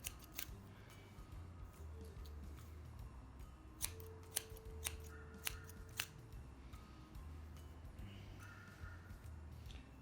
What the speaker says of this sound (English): it's starting to shape in more because of the thinning shears